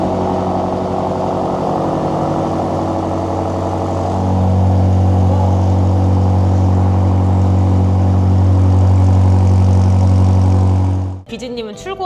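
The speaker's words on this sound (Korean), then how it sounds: "사실 저는 M5 순정 배기음도 되게 만족을 하면서 다닐 수 있다고 생각을 하지만" BMW M5 with a tuned aftermarket muffler exhaust, idling steadily with a deep, loud rumble that swells slightly midway before cutting off near the end.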